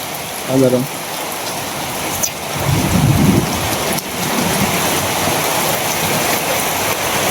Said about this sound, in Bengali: বৃষ্টি আস্তে আস্তে বাড়ি হইতেছে